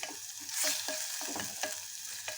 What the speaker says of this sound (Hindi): मैंने इसमें 1 कप प्याज ऐड कर दी है, तो मैंने बारीक चॉप की थी चॉपर में। हम इसको भून लेते हैं।